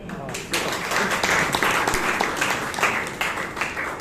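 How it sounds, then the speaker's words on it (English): Audience applause at a Toastmasters club meeting in Bangalore after a table topics session, a steady spread of clapping from a room of people, moderate and continuous with some voices mixed in. "That's not the applause you should give to Akash."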